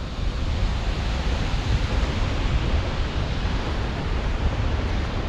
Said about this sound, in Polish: Selja Landsfoss to jest ten wodospad, pod którym się tutaj przechodzi pod spodem.